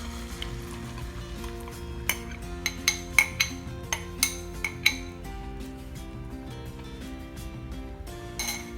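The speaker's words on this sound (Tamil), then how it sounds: "பேனே திருப்பி அடுப்பில் வச்சுட்டு அதில் இந்த எக்கை நம்ம ஊற்றிடலாம்" Beaten egg poured into a hot pan for a potato omelette, a soft steady sizzle with several sharp clinks of a utensil against the pan partway through, no talking.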